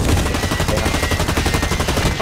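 Sustained automatic gunfire in the shooter game Blacklight, a rapid continuous stream of shots, loud and close throughout.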